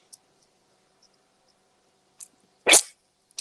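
A wet fart sound effect bursts out once, short, loud and spluttering, after near silence broken only by faint ticks.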